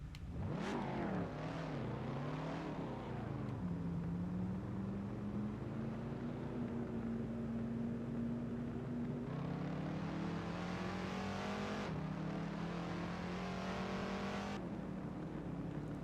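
A modded race car in the Assetto Corsa driving sim drones and revs as it accelerates, its engine pitch climbing through the gears with shifts and a sustained, fairly quiet growl, without talk.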